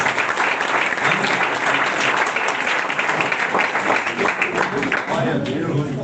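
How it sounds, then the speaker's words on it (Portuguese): A church congregation applauds steadily at an Assembly of God service, a dense, even wash of clapping filling the room for several seconds without a break. "Eu queria que você aplaudisse o Senhor pela vida desse casal."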